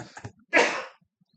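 A single sharp sneeze bursts out during a county commission meeting, preceded by a brief murmur of voices and followed by quiet room tone.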